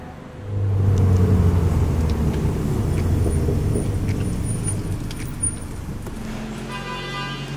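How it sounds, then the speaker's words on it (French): A brand-new Alpine sports car engine, fresh off the factory line on a test track, rumbles steadily close by, low and loud, then eases slightly; a brief high toot or beep sounds near the end. "la voiture sort de chaîne et c'est la première fois que la voiture va rouler sur route"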